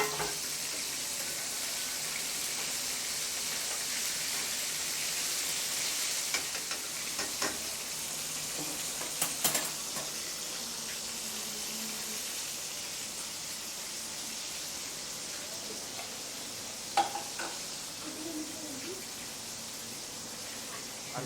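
Chicken zinger pieces for homemade shawarma fry in hot oil, a steady dense sizzle that runs unbroken throughout, fairly soft and close, with a few faint clinks and stirring knocks over it.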